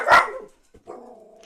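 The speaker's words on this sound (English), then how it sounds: "Dogs." A dog gives one sharp, loud bark, then after a brief pause lets out a lower, drawn-out whine or howl, close by with no talking.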